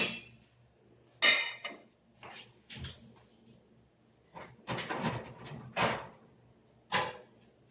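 A lid is set onto a cooking pot of chicken with lemongrass, giving several light metallic clatters and clanks spread across the stretch, close by and moderately loud amid quiet kitchen background.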